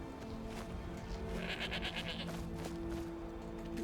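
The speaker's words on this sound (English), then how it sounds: "these are like I think these are the village's goats." Village goats in Skyrim at Rorikstead bleat in a few short, wavering cries in the middle of the stretch, heard over a steady low game ambience and music bed.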